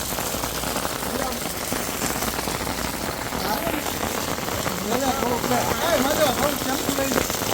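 Monsoon rain pours down outdoors in Gujarat, a dense continuous hiss and patter on surfaces around an umbrella, with voices talking faintly through the downpour.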